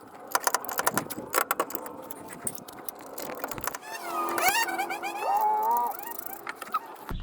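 Metal bolts clink and jangle in a string of sharp, close taps while being fitted to the lower control arm of a 2014 Toyota Sienna, followed by a brief squeaky metallic scrape; no talk.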